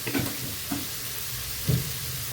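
Radish and potato pieces fry in a pan for a traditional Bengali mulo ghonto, with a steady sizzle and a few louder scraping stirs near and alone.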